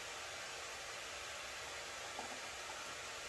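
A heat gun warming a Husqvarna 390XP chainsaw crankshaft bearing, a steady close hiss of blowing hot air that stays even throughout, with no voices.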